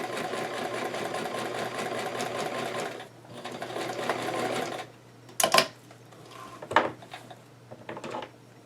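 A sewing machine stitches a doll dress, running steadily for about three seconds, then slowing and stopping, followed by a few quieter handling clicks and taps at the workspace.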